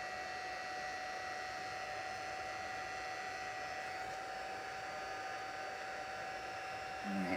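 Embossing heat tool warming up over a card-making workbench, a continuous steady blowing whoosh with a constant tonal whine, close and unbroken.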